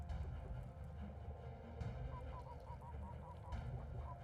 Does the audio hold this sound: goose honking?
yes